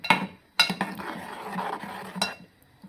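Spoon scraping and clinking against a pot while milk kozhukattai, rice dumplings in boiling milk, is stirred, with a few sharp knocks and a steady bubbling, scraping rustle between them, close and moderately loud with no talk.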